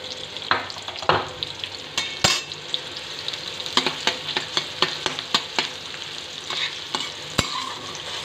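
Chopped onion frying and being stirred in a pan for a sarata (gokhru) vegetable dish: a steady sizzle underneath a rhythmic series of scraping spatula strokes against the pan, close and clear, with no talking.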